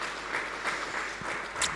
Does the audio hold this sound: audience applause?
yes